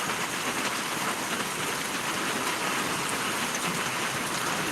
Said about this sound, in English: zonk out with this wind and rain